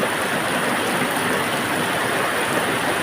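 Heavy rain pours steadily during flooding in Valenzuela City, Metro Manila, a dense, unbroken hiss of rainfall that stays loud and even throughout with no talk.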